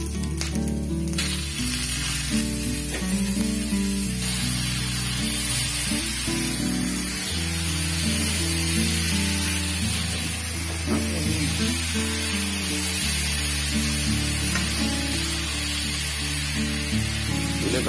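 Whole fennel and carom seeds frying in hot oil for a sweet-and-sour raw mango chutney, a steady soft sizzle running throughout under a continuous background music track.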